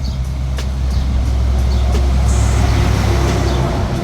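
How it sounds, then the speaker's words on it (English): Trucks roll past on a roadway in a steady, loud low rumble of heavy traffic that lasts throughout, with brief higher hisses like air brakes cutting in. "got these trucks driving by"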